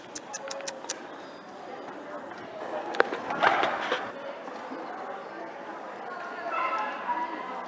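Dog with neurological effects of distemper giving a few sharp barks and yips, then softer whimpering, close by, while a person talks gently to it.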